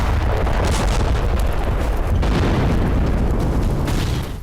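Explosions from missile strikes in Russia rumble and boom continuously, a dense, heavy roar of blasts with no clear gaps between them.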